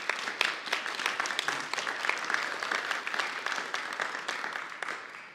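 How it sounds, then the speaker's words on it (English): Steady applause from an audience for students at a mobile VR STEM learning demo event, dense clapping sustained for several seconds at moderate volume with no talk over it. "give it a big a round of applause to the students"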